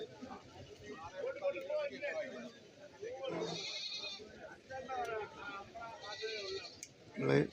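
Goat kids at a Kerala goat market bleat now and then, close and sharp, through constant talk and the general noise of the market.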